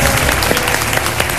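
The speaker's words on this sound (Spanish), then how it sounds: "Fuerte aplauso" Loud, dense applause from a studio audience on a Paraguayan television game show, continuous and full throughout with no gaps or voices standing out.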